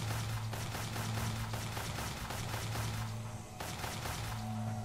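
Rapid, evenly spaced bursts of gunfire in the video game Westland Survival repeat steadily, loud and continuous, with a steady electronic hum beneath and a brief pause near the end.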